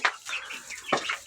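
Crossbred Kuchinsky and Pavlovsky chickens cluck nearby, two short bright calls separated by a softer, lower murmur.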